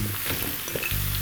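Potatoes dropped into hot mustard oil give a short burst of close sizzling with a light stir, and nobody speaking.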